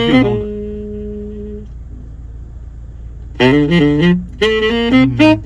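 Saxophone music plays through a two-way active audio system in a Toyota Fortuner: a held note that fades into a pause, then two bursts of lively, bright phrases up close and clear.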